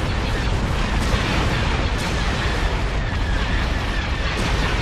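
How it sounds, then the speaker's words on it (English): A dense barrage of laser fire in the Star Wars strategy game Imperial Civil War, a continuous loud roar of blasts and explosions with a few sharper bursts. "Now that's a real barrage of laser fire."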